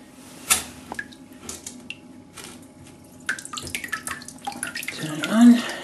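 Water from a barrel runs through a homebrew sparge arm for a mash tun, splashing and trickling steadily with small irregular drips and clinks nearby.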